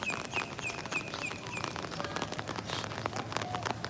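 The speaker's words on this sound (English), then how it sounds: "it's just a rainy day" Steady rain falls on a rainy day at Epcot near the back of the boardwalk resort area, a continuous hiss throughout with a few faint bird chirps over it.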